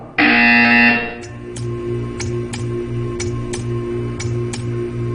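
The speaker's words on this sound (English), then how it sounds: "You will hear a buzzer. When you hear the buzzer, stare at the art." A loud, harsh electronic video game buzzer blares for about a second, followed by a steady low hum with evenly spaced ticking clicks.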